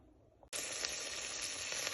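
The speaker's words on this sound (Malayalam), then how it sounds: "അത് കഴിഞ്ഞിട്ട് കിഡ്നി ബീൻസ് ഇടുക." Kidney beans tipped into hot, oily masala in a pan for a kidney bean curry set off a sudden loud sizzle that bursts in after a quiet moment and keeps hissing evenly until the end.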